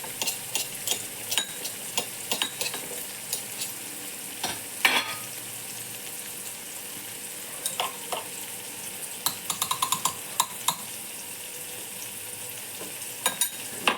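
Ginger garlic paste goes into sliced onions (kanda) frying in a pan, giving a steady close sizzle broken by repeated scrapes and clinks of a spoon stirring, with no talk.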